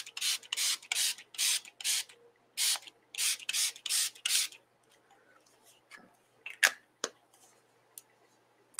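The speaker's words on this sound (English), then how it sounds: "I'm going to just spray" Rapid series of about ten short hissing spray pumps onto a gel printing plate, close and fairly loud, followed by a few faint clicks and handling noises.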